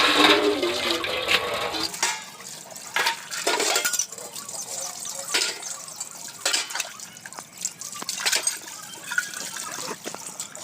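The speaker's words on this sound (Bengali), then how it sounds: "প্রথমে কলটা ছেড়ে দিয়েছি দেখুন ছেড়ে দিয়ে আমি ধোয়া শুরু করে দিয়েছি" An open tap runs water while things are washed at an outdoor washing spot, a splashing, trickling stream with occasional clinks and knocks, close and fairly loud throughout.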